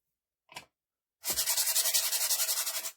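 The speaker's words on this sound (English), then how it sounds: "just take your sander, okay, and just sand it" A handheld sander works over a small craft ornament, a close, rapid raspy scrubbing in quick even strokes for about two seconds after a brief scrape.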